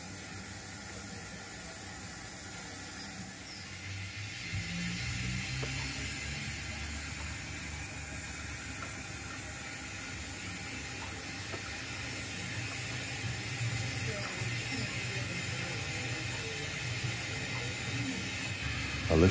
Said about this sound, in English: the shunter returns, bringing empties for walk-through sidings